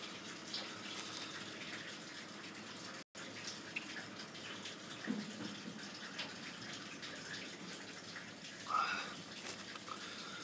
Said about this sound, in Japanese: 加湿器壊れたからちょっとシャワーで熱風出す。